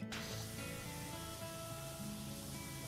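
Steady, dense hiss of a pressure washer spray from Powerwash Simulator running continuously and loud for the whole stretch, with tonal game hum underneath and no talk.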